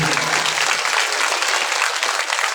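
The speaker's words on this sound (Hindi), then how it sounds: "एक बार उनके लिए आप जोरदार ताली देंगे।" Loud, dense applause from a seated audience at a Bhagavat Katha religious discourse in Rampur, sustained clapping throughout at full level with no voice on top.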